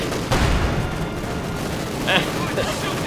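A WWII strategy game battle fills the air with dense gunfire and dull explosions, a few louder bursts standing out against continuous battle noise, while a voice talks over it.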